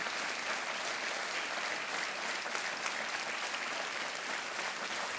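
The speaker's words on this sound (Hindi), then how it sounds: "तालियां बजती रहनी चाहिए।" A studio audience on a Hindi TV quiz show claps in a dense, even, continuous burst of applause that stays at a fairly constant level throughout, with no talking.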